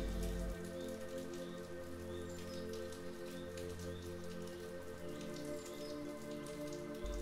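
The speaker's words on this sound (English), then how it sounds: "Listen to the rain" Steady rain falls on leaves and petals, a dense, even patter of drops continuing throughout with no voices, accompanied by a sustained low drone underneath.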